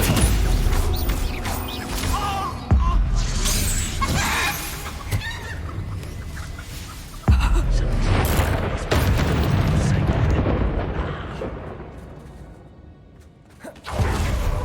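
Expulso spell blasts in the video game Hogwarts Legacy: several sharp, loud explosive bangs, each followed by a rumbling, crumbling tail amid busy game sounds.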